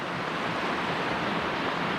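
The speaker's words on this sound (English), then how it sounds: "Sleeping beside a frigid glacier river." A frigid glacier river rushes in a steady, unbroken roar of broadband water noise beside a campsite on a backcountry trail. It is close and loud, with no voices.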